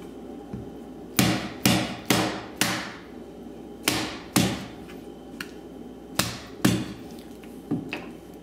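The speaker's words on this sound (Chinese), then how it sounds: "那个钳子的壳很厚，所以呢，我会用这个锤子把它敲碎" A hammer cracks the thick shells of lobster claws in a kitchen, giving about a dozen sharp, close knocks in irregular clusters over a quiet background.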